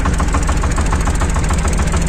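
A Shifeng 240 mini tractor engine runs steadily at low revs close by, with a rough, rhythmic knocking pulse and heavy vibration.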